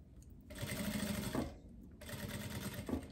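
Sewing machine stitching the pocket of wide-leg trousers, running in two steady close bursts split by a short pause, with no talk.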